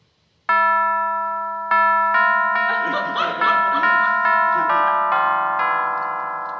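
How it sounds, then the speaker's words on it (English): A doorbell chimes a long melodic sequence of bright, sustained ringing tones, loud and close, with a brief rustle of voices partway through. "what a beautiful brass doorbell button"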